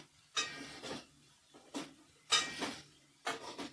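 Peanuts stirred and fried in a pan while cooking a rice dish, giving bursts of scraping and clinking from a spoon against the metal, in uneven strokes with quiet gaps between them, close by and with no talking.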